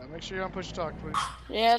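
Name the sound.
dog barking in background over open mic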